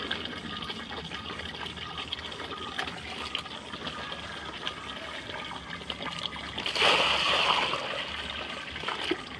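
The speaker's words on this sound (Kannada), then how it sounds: "ನೀರು ಬಡಿ" Water pours steadily into a container at close range, a continuous splashing trickle that swells briefly louder near the end.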